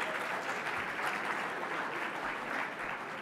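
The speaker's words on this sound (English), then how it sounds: "Give yourselves a round of applause." Steady, dense audience applause fills the room at an awards evening, holding at an even level throughout with no voices on top.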